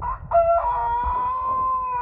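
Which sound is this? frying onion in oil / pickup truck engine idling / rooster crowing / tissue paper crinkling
rooster crowing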